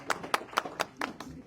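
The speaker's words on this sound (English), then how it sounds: "Please give the applause here." A small audience at a Buffalo, New York community and political event claps sparsely, about six distinct handclaps evenly spaced and moderately loud, with no talk.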